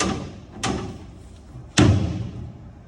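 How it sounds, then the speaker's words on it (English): Rivets are set to fasten hatches onto an aluminum boat, two sharp metallic thumps about a second apart, the second louder and ringing briefly, close by with no talking. "Going to fasten in these hatches with a couple of rivets."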